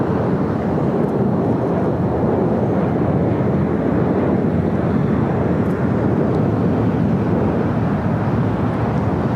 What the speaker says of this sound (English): Latam Airlines Flight 8087 heading to Sao Paulo, Brazil. It's a 3-year-old 787-9 Dreamliner.